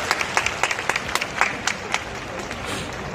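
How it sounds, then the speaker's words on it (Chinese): Scattered applause from a crowd at a baseball retirement game ceremony, with uneven claps rising and fading against a steady background murmur of the ballpark. "让我们掌声欢迎陈志宏教练。"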